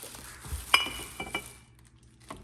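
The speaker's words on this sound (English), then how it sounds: "That's 1 glass bottle" Glass bottles from a Bartesian cocktail machine box clink together as they are unpacked, giving a few sharp, faint knocks spread over quiet handling and rustling of packaging, with no voices.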